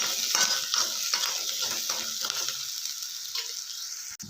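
Chana dal fries in hot oil in a pan, a steady close sizzle with a few light stirring scrapes and clinks, fading slightly toward the end; no talking.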